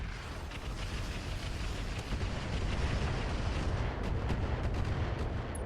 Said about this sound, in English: The Boar's Head is going to move up over this way, drop artillery on the Centurion,